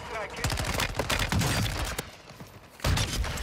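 Video game gunfire with a shotgun among the weapons, dense bursts of shots and booms packed close together through most of the clip, loud and near, with a brief lull before a heavy blast near the end.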